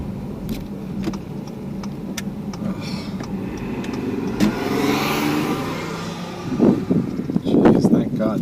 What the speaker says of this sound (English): thank God that car passed